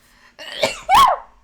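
A single close, loud human sneeze, a short sharp intake followed by an explosive burst, heard alone in a quiet room.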